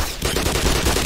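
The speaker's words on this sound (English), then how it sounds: "Let me reload my SMG" Rapid SMG bursts fire in the video game Black Mesa, a loud, dense rattle of closely spaced shots lasting about a second.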